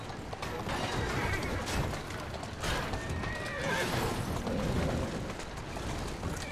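A horse whinnies in the video game Assassin's Creed Syndicate amid dense, rumbling background noise, with hoofbeats clip-clopping steadily underneath throughout.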